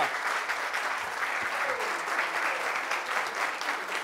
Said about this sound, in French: Les gars, on va les applaudir pour les raccompagner